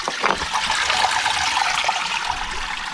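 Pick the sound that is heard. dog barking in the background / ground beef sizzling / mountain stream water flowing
mountain stream water flowing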